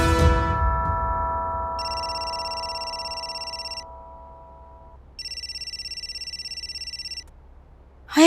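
A telephone rings in two long electronic trilling bursts separated by a pause, following a fading chime at the start, with no voices.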